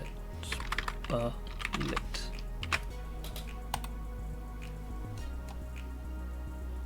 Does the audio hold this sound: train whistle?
no